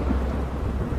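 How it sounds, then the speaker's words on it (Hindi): Heavy rain pours down during a thunderstorm, a loud continuous low rumble and wash of falling water with no pauses. "सपने में जोरदार बारिश हो रही थी।"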